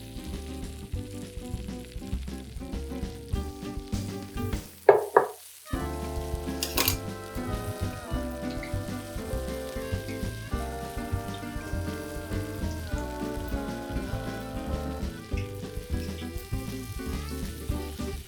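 Mushroom tempura in batter frying in hot oil gives a steady, dense sizzle and crackle throughout, briefly interrupted by a clatter as pieces are dropped in, then bubbling on without any talk.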